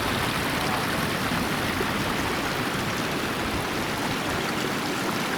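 Ten Lakes Creek drains into the Grand Canyon of the Tuolumne River with a steady, full rush of flowing water, a continuous broadband roar that stays close and unbroken throughout.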